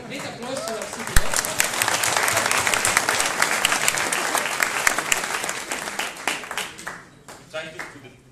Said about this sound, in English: Please applause to our CTO.